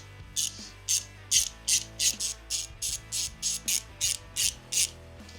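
A hand ratchet fitted with a 5/32 Allen socket backs out the stator bolts on a Harley Dyna, giving a close, quiet series of about a dozen evenly spaced clicking bursts with no one talking.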